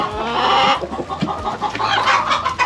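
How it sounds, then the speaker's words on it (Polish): Laying hens being let out of their coop, a dense, close chorus of clucking and squawking that goes on throughout at a steady loudness. "A ja teraz otwieram nioski i niech sobie wyłażą."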